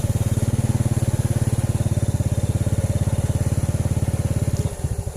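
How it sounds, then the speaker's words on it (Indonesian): Motorcycle ridden at night through a quiet housing complex: a loud, close engine putters in a fast, steady rhythm for most of the clip, then briefly shifts near the end, with no voices. "apalagi kalau sambil naik motor malam-malam gini"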